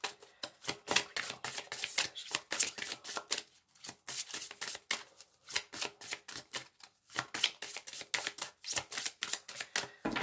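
Oracle cards shuffled by hand, a close, soft run of rapid riffling clicks and flutters in quick uneven bursts with short pauses between handfuls.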